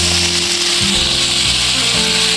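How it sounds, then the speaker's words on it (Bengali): Taro flowers sizzle in hot oil as they fry, a loud, steady hiss over a low hum that continues without pause and without talk. "এবার তেলের উপরে কচুর ফুলগুলো আমি দিয়ে দিলাম।"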